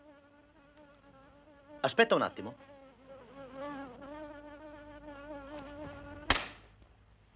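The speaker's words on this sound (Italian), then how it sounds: "Una zanzara." A mosquito whines close by in a comedy film scene, its thin buzzing drone rising and falling steadily for several seconds, briefly interrupted by someone speaking a short Italian phrase and a sharp slap or clap near the end.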